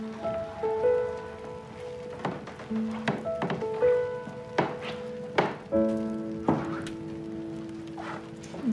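Rain comes down in a steady patter at night, with louder irregular drops and splashes hitting nearby surfaces close to the listener.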